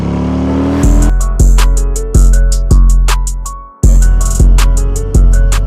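A Harley-Davidson Fat Boy engine runs loud and close while riding, its throbbing note climbing in repeated surges that drop off sharply between them, with a brief dip near the middle before it pulls again.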